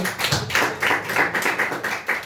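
Church congregation clapping in praise during a worship service, a fairly close, rhythmic series of distinct hand claps from a modest group, loud and steady for a couple of seconds.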